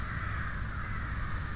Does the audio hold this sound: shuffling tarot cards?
no